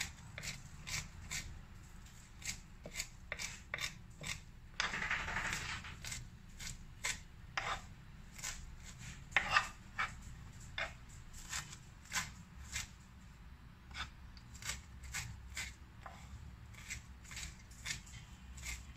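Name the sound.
chopping parsley with a knife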